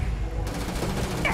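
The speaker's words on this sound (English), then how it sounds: "that's why I like this mining beam so much" A mining beam fires in the space game Starfield, a brief, steady burst of crackling energy lasting barely over a second, loud and close with no talk over it.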